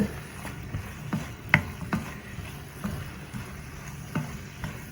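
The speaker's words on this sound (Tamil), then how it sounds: "சிக்கனை போடுவோம் பாருங்க போட்டு அதையும் வடிவா எல்லாம் சேர்கிற மாதிரி கிளறுங்கோ" Chicken pieces being stirred into a butter masala in a pan, giving soft scraping strokes at an irregular pace over a low, steady frying sizzle, close by with no talking.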